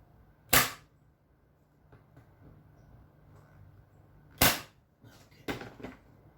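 A staple gun fastening a mounted staghorn fern, with three sharp, loud, close snapping shots, one early, then two in quick succession near the end, separated by quiet handling and rustling.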